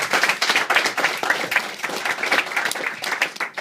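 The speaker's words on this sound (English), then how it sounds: "I think they all deserve a round of applause." Wedding guests clap for the bridesmaids, a short burst of applause from a modest crowd in which individual claps stay distinct, steady and close, with no talking over it.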